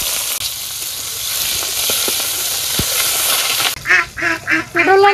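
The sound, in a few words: chopped onion and green chili frying in oil in a wok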